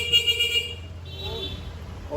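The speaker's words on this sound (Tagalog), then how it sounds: "Busina, sir." Horn of a Honda Click 125i V4 scooter, a few short beeps near the start, fairly faint against background noise and people talking nearby.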